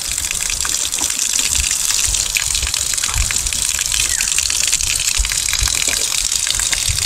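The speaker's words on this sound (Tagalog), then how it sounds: "Running water po mga kautol." Spring water gushes and runs continuously from a natural spring source, a loud, close, steady rushing splash with no pauses and no talking.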